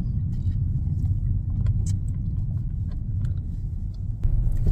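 A car drives along a Seattle road, its low engine and tyre rumble steady and close throughout, with a brief rattle like jangling keys partway through and a louder surge near the end.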